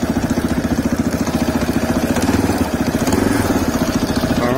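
A CSC RX3 motorcycle engine idling close by, a loud steady pulsing thump with an even rapid rhythm and a slight wobble partway through.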